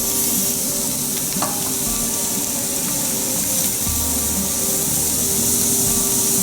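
Shrimp fry in hot oil in a pan, a loud, continuous hiss and crackle that stays steady for several seconds with no speech over it.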